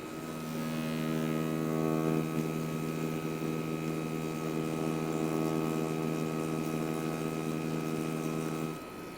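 A tattoo machine lining into skin and bogging down gives a continuous, close, low, strained buzz that holds steady for about nine seconds with no voices.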